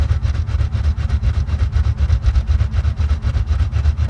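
Simulated car engine idling in the Automation car-building game, a steady low rumble with a fast regular pulsing throb, loud and continuous with no talk.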